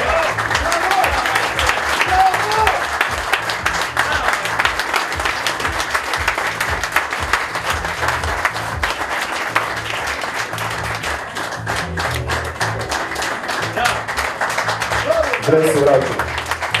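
Sustained, loud audience applause rolls through a charity auction of sports jerseys, with a dense, continuous crackle of many hands and crowd noise swelling briefly near the end.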